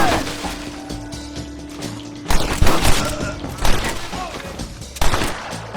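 Gunfire in Red Dead Redemption: a dense fusillade of loud, close shots and thuds, with heavy volleys breaking out in bursts over ongoing game sounds.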